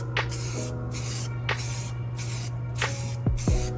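Spray can hissing paint onto the crossmember mounting area of a Jeep Cherokee XJ, five short bursts close by with brief pauses between, no talking.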